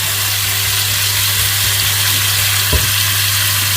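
Vegetables stir-fried in a home kitchen wok with soy sauce and oyster sauce, a loud, unbroken sizzle up close with a steady hum and one brief clunk of the spatula.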